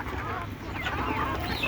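Native country chickens cluck softly in a farmyard, brief overlapping calls against a low background hum, moderately distant.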